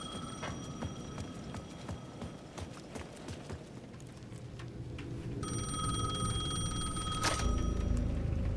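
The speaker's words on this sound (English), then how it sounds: "the payphone at the edge of the plaza was ringing again." A payphone at the edge of a plaza in Alan Wake 2 rings with a bright, repeating electronic bell. It cuts in over a dim ambient bed with scattered hollow footstep-like knocks, and the ringing grows louder and steadier toward the end.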